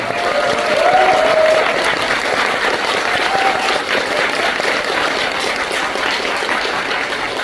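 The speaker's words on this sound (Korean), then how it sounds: "우리 카이굴에게 다시 한번 경제의 박수 부탁드립니다" A large theatre audience claps loudly and continuously at a curtain call, a thick wash of applause with faint cheering mixed in.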